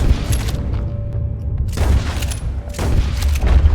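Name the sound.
gunfire in Red Dead Redemption 2 video game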